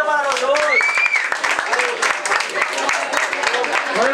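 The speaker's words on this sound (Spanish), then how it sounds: "Un aplauso para los dos." Audience applause at a freestyle rap battle tournament, loud crowd clapping mixed with cheering voices and shouts, lasting around four seconds.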